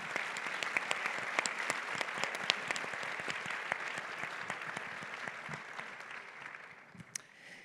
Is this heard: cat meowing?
no